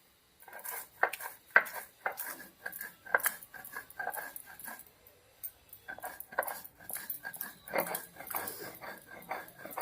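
Spice paste being ground by hand to a slightly coarse texture for a jujube pickle, heard as irregular scraping, knocking and grinding strokes that repeat unevenly throughout, close and fairly quiet, with no talking.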